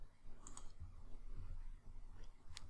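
Sharp, quiet clicks from a computer mouse in CAD software, a few isolated presses spaced apart over faint room noise.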